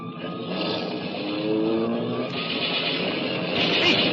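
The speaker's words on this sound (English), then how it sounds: "Hey, Charlie, a prowl car." A police prowl car driving as a 1940s radio drama sound effect: an engine hums and rises in pitch as it speeds up, thin and narrow in tone, with no one talking over it.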